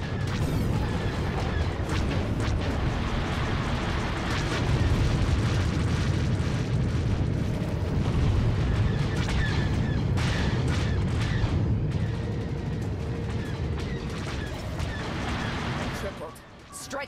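Missile explosions in the space combat game Galactic Starfighter during a 12v12 domination match: a continuous dense roar of booms and blasts, loud and close, with a voice speaking over the action.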